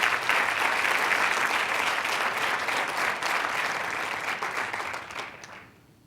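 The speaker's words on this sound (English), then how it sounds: "if you could give all of our sponsors a round of applause" An audience at a community keynote event applauds its sponsors: a dense, steady wash of many hands clapping, close and loud, holding for several seconds before thinning and fading out at the end.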